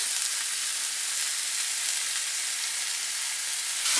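Onion and crushed garlic cloves frying in a pan for chicken in mushroom sauce, a continuous loud, even sizzle with nothing else over it.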